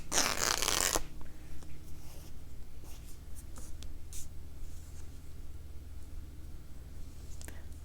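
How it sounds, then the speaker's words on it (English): Background fabric being slowly torn by hand for a stitching project; a loud rip opens the clip, then faint scattered tearing and rustling over quiet room tone. "And I'll slowly tear it."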